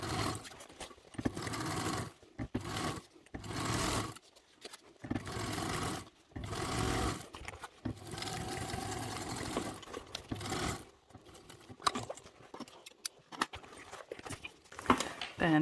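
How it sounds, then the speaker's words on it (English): A domestic sewing machine runs in stop-start bursts while basting the base gusset lining to the exterior gusset of a crescent-shaped bag at an eighth-inch seam allowance, each run close and steady, separated by short pauses. "we are basting the base gusset lining to the exterior base gusset"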